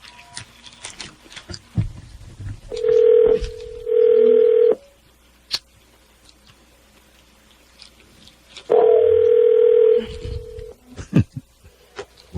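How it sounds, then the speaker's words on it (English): Two long bursts of a telephone ringing on an unanswered call sound down the line, separated by a pause, with clicks, handling noise and scattered talk-show chatter around them. "I guess they were tired of hearing the phone ring."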